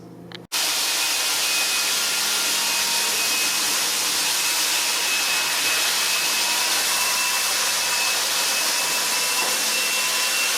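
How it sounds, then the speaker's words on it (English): A power sander running on a Formica countertop, a loud, steady high-pitched whine that starts abruptly after a brief quiet moment and holds evenly to the end, with no voices. "that came flying out of the sander"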